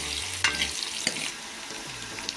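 Kashmiri sun-dried bottle gourd and mutton frying in a pan, a dense close sizzle with a couple of brief scrapes or knocks, no voices heard.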